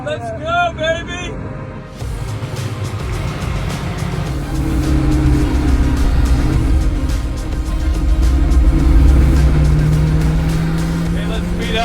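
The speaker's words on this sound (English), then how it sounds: "I am driving the first Venom F5 manual." Hennessey Venom F5 Revolution LF manual hypercar engine accelerating, a loud, steady roar that rises in pitch and stays near, with excited voices shouting over it.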